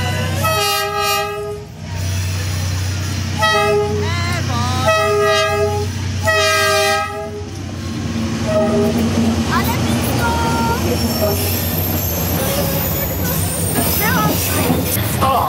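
A train rumbles in close by in Vietnam, sounding several loud tooting horn blasts, followed by rolling wheel noise as locals and tourists chatter and cheer around it.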